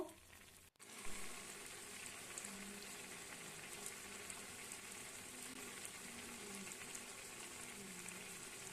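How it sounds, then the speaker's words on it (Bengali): Poppy seed paste with radish simmering and being stirred in a pan, a constant bubbling sizzle at close range after a brief clatter at the start, with no voices. "এবার ভালো করে নাড়াচাড়া করে একটুখানি ফুটিয়ে নেবো"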